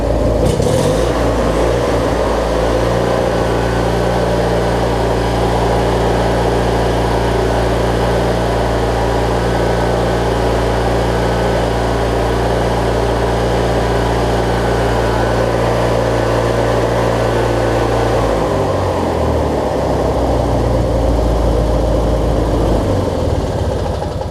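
A Briggs and Stratton opposed-twin engine idles steadily after a fuel pump replacement, a loud, even drone close by that runs most of the time, then its tone drops and shifts near the end.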